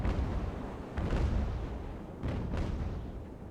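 Cannon fire in the naval game Ultimate Admiral: Age of Sail booms out as a few deep, rumbling blasts in quick succession, heavy and low over a muffled roar.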